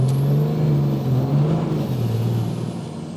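A 700-horsepower second-generation pickup truck engine roars at high revs in first gear with tires spinning and smoking, a loud steady drone with a slight hiss on top, easing slightly toward the end.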